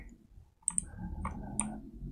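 A computer mouse clicks while controls are set up for Sakura School Simulator on a laptop, a few sharp separate clicks, close and alone.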